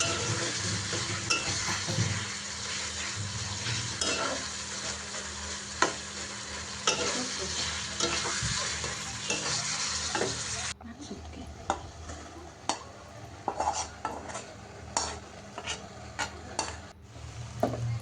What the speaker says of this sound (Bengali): এখন নেড়েচেড়ে ভালোভাবে মিশিয়ে নিলেই হয়ে গেল নুডলস রান্না